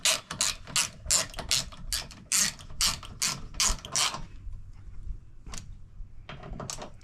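A ratchet tightens the side-view mirror bolts on a 2023 Can-Am Defender, a quick run of loud close clicks, a pause, then a few slower clicks.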